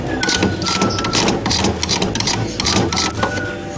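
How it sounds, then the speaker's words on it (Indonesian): A flathead screwdriver scrapes back and forth over the connector pins of a Canon IP2770 printer cartridge holder, making a continuous close, dense rasping scratch with no pauses. "Jadi saya akan coba bersihkan pinnya ini menggunakan obeng min. Jadi saya gesek-gesekkan seperti ini."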